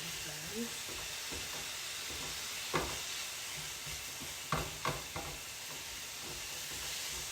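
Cheesesteak meat fries in a hot pan with a steady, loud sizzling hiss throughout, broken by a few scraping and clacking stir strokes and faint speech in the background.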